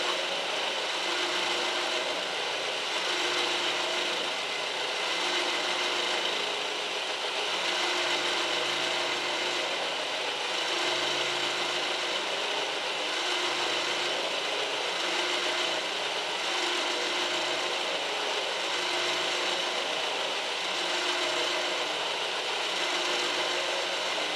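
A milling machine cuts a metal axle adjuster plate for a motorcycle build in a garage shop, giving a steady, loud, continuous grinding rasp with no breaks and no talking.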